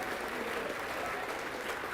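A church congregation claps steadily throughout, a dense, even wash of applause from a crowd in the room.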